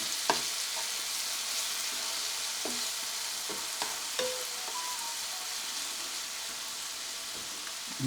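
A constant crackling hiss of food frying in hot oil in a pan before ground beef goes in, with scattered soft pops and a faint clink of a utensil now and then.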